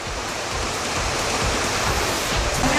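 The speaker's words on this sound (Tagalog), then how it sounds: "At tunog ng pag-agos ng tubig ng Dunsulan Waterfall sa paanan ng Mount Samat." Water flows at Dunsulan Waterfall at the foot of Mount Samat in Pilar, Bataan, making a steady, loud, close rushing roar that holds without a break, with no voices over it.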